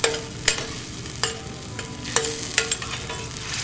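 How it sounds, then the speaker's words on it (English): Monkfish, scallops and little neck clams get stirred in a hot sizzling pan, with several sharp scraping strokes at an uneven rhythm over a steady close frying hiss. "Just going to give it a little stir."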